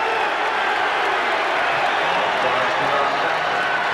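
Basketball arena crowd cheering and applauding during a 1984 Houston Rockets–Dallas Mavericks NBA game, a steady, loud wash of applause and voices filling the whole stretch with no single dominant shout.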